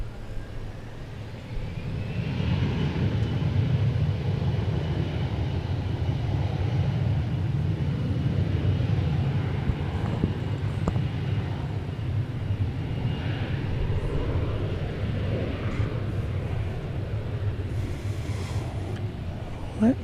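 An Envoy jet takes off from runway 18 left at DFW airport, a broad sustained roar that builds quickly and holds steady for many seconds, heard from a distance with wind buffeting the microphone.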